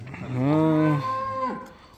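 A single long, deep moo from a dairy cow on a farm rises and holds close by, then trails off into quiet.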